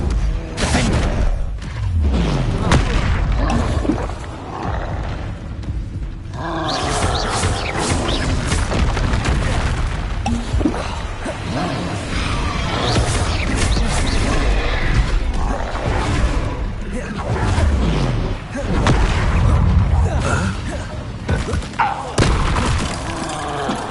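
Confringo spell blasts during combat in Hogwarts Legacy: repeated booming explosions and crashes layered with whooshes, loud and dense throughout, with a voice speaking beneath the action.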